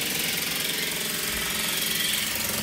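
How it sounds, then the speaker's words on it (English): A lapidary tool smoothing a Luna Blue agate rock gives off a continuous, even grinding whir with a steady rough buzz, close and loud with no break. "smoothing a rock"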